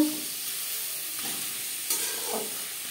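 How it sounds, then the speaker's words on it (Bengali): Chopped onion and tomato sizzling in hot oil for an aloo chicken curry, a soft, steady hiss with a few faint stirring scrapes, fairly quiet and close, with no talk. "তেল গরম হয়ে গেছে। এবার দিয়ে দেব পেঁয়াজ কুচি ও টমেটো"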